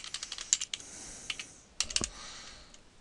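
Typing a domain username on a computer keyboard: irregular bursts of close, crisp key clicks, with a pause midway before another quick flurry of keystrokes.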